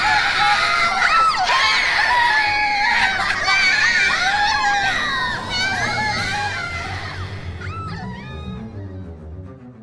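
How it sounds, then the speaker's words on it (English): Loud, continuous screaming and shrieking from many young voices, like a panicked crowd, fills the scene before fading into scattered cries, used as a horror sound effect within a pony fanfic story reading. "Then the screaming began."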